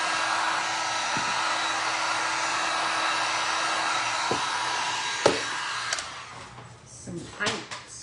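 A hair dryer blows steadily to dry Mod Podge glue on the edges of a glass and resin pumpkin, loud and close with a constant whoosh, then switches off, leaving a few clicks and handling sounds.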